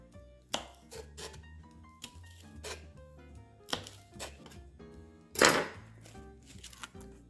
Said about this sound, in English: So the first thing I'm gonna do is go ahead and cut these into julienne strips.